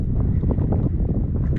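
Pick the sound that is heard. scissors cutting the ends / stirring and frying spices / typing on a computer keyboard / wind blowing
wind blowing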